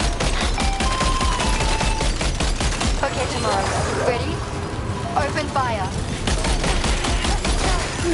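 A volley of gunfire crackles in rapid bursts, loud and dense, with voices talking over the shots and a busy background throughout.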